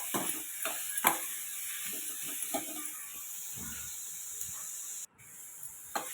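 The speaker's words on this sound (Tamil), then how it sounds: "நல்லா பீட்ரூட்டை வந்து நல்லா வதக்கி விடலாம்." Grated beetroot sautéing in a pan gives a soft, steady sizzle, broken by scraping and stirring strokes of a spoon at irregular intervals, close and fairly quiet.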